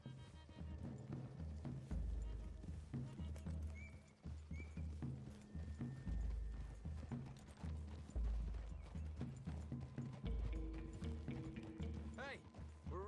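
Horse hooves clip-clop steadily through trees in the video game Red Dead Redemption 2, several horses walking together under a faint mechanical rattle and occasional voices.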